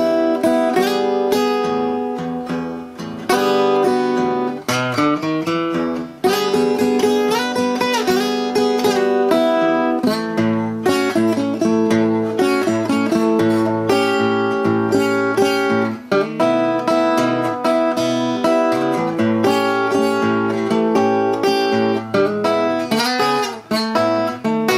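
Acoustic-style blues guitar plays a song in a continuous loose rhythm of bass notes and chords with bent treble licks, steady and close for the whole stretch, with no voice over it.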